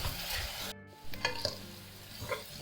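Green chilies, garlic and ginger sautéed and stirred in a pan with onions for a coconut milk chicken curry, soft sizzling with scraping stir strokes and a brief gap, close and fairly quiet.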